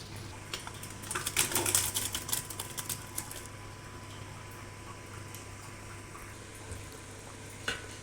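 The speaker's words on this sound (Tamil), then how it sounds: "இப்போ அடுப்பை ஆஃப் பண்ணிவிட்டு இப்போ கலக்கலாம்." Piece parotta is stirred in a pan with the stove off, giving a cluster of faint clicking and scraping taps near the start. Softer scattered clatter follows against a quiet background.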